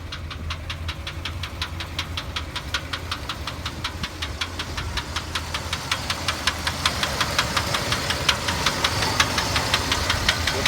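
Chevrolet C30 2WD truck with a 454 V8 and dual exhaust running steadily, a loud, even rapid ticking knock over a deep throbbing rumble that grows slightly louder toward the end.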